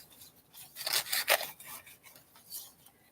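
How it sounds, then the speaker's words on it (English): Fingers rub rubber-cement-like adhesive residue off Halloween decorations, producing a few short, close scuffing strokes in quick succession followed by a fainter rub. "all you got to do is rub it off"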